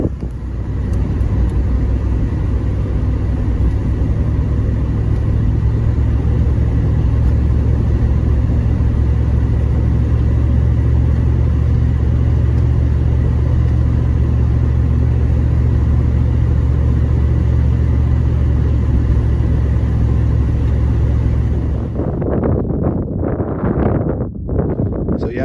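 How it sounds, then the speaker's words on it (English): A Chevy Tahoe fitted with Venom Power Terra Hunter tires cruises a snowy Texas highway, giving a steady loud road rumble with wind noise that holds evenly, then thins abruptly near the end. "the next clip is just going to be driving on the highway"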